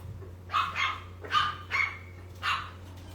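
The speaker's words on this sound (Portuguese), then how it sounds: "se vocês ouvirem barulho de cachorro, são os meus bebês" Dogs barking indoors, four or five quick, moderately loud barks in a short burst over a low steady hum, with no talking.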